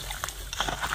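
Water rushing and sloshing into an open drain channel outdoors, a steady broadband gush with splashy bursts, fairly close and continuous.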